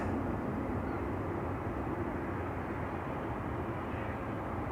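A WestJet airliner taxiing at Schiphol Airport produces a steady, broad engine rumble and hiss that holds evenly at a distance throughout.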